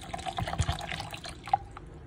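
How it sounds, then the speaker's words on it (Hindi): Chilled water pours into a blender jug holding falsa berries, a steady trickling splash running for about two seconds, close and moderately loud. "एकदम चिल्ड वाटर मैंने इसके अंदर डाल दी है।"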